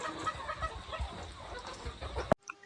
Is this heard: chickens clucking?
yes